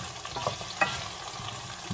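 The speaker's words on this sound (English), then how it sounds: "generously pushing this through the oil, is that the potatoes are sticking a little bit" Potatoes fry in oil in a nonstick pan while being pushed around, giving a soft, steady sizzle with a couple of brief scraping knocks near the start, no voices.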